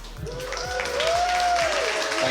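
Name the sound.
audience applause at Halo esports event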